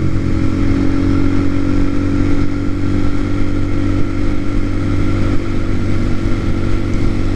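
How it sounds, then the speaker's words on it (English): A TaoTao TBR7 motorcycle engine runs steadily at a low idle, giving a close, continuous rumble with a constant tone and no voices. "I have the idle set pretty low, just so it's not so loud all the time."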